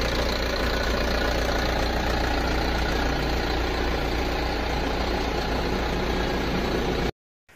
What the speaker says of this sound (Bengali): উঠিয়ে আপনাদেরকে ইঞ্জিনের অংশটি দেখাচ্ছে, এবং ইঞ্জিনের সাউন্ডও শোনাবো